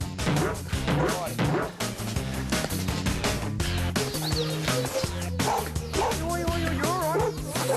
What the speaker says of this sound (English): What are you doing with this koala, you silly dog?